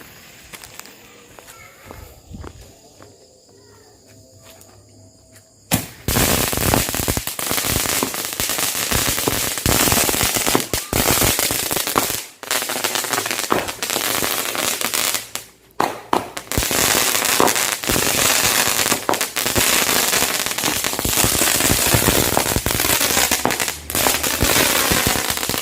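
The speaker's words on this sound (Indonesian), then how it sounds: "Itu dia mercon Cobra jumbonya ya." Jumbo Cobra firecrackers go off at night during Ramadan, a dense, loud barrage of sharp bangs and crackling that starts after a quiet few seconds and keeps up almost continuously, with a few brief pauses.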